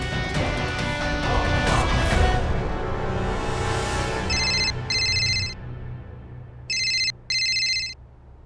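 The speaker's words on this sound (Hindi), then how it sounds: "फोन कर लेता हूँ ना रितेश को एक बारी" An outgoing phone call rings back in two short electronic bursts, each split by a brief gap, clear and close after a loud crashing clatter fades away.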